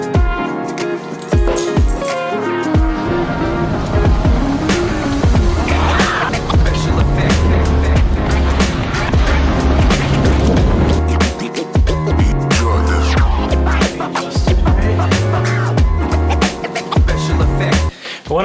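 Longboard skateboard rolling over city streets during test laps before a race, with steady wheel rumble, clacks over cracks and passing traffic noise throughout.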